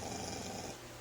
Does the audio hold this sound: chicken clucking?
no